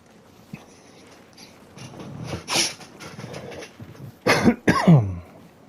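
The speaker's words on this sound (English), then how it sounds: "Had to kind of try to clear my throat a little bit there." A man coughs and clears his throat in a few harsh, close bursts near the end, after a stretch of quieter rustling and breathy noise.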